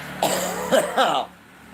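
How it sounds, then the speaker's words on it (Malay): A person coughs in a few short, rough bursts close to the listener, with a throaty, clearing quality, then falls quiet. "Ah ini dia batuk."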